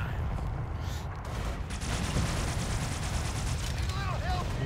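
An automatic laser machine-gun turret in the shooter game Halo Spartan Assault fires in rapid, clattering bursts among other game effects, with a voice talking over the action.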